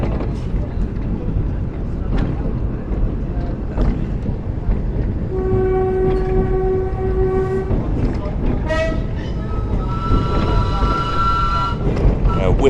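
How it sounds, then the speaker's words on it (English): A miniature railway train at a steam and diesel heritage railway blows its whistle twice, a sustained tonal blast of about two seconds followed by a second shorter, wavering one, over the low rumble of the running train. "Whistle off on the miniature railway."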